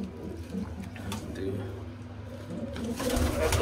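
Pigeons coo softly in a loft, a few low murmuring calls close by, mixed with faint rustling and handling noises.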